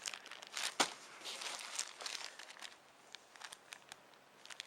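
Small plastic bags of instant cappuccino mix with sweetener, prepared for a camping trip, crinkle and rustle close by in short irregular bursts, with one sharper crackle near the start and lighter patters after.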